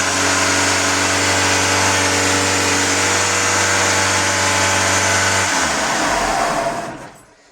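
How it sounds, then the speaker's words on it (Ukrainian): A Ford Focus engine holds a loud, steady high-rev drone with a strong constant tone, then drops off and fades out toward the end. "вона задира оберти"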